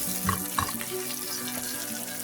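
Sliced onions and garlic sizzle and fry in hot oil in a pan during preparation of a spicy chicken do pyaza, a steady close crackle with a couple of brief stirring scrapes.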